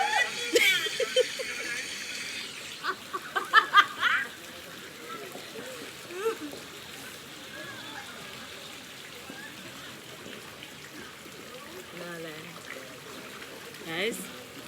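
Hot mineral spring water flows steadily at Bath Fountain in St Thomas, Jamaica, a soft continuous rushing heard under intermittent nearby voices and a few sharper splashes early on.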